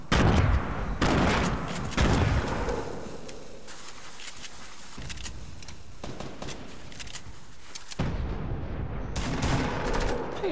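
Rapid video game gunfire, loud bursts of automatic shots in repeated volleys with brief gaps between them, close and sharp.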